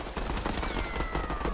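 A gun firing in the Worms Rumble video game, a rapid, dense run of repeated shots that stays loud and continuous over a busy game soundscape.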